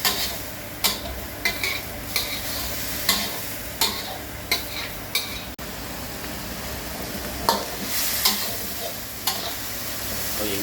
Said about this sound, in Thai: คั่วให้สุกเลยนะครับ